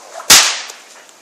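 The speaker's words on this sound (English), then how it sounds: "This is what they call a coachman's crack." A single sharp coachman's crack from a stock whip, loud and close, bursting out suddenly and then trailing off into a short decaying tail with no talk.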